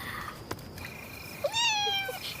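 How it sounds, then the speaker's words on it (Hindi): A cat meows once, a clear rising and falling call in a quiet indoor setting, with faint soft knocks before it. "हाँ, दूसरी बिल्ली।"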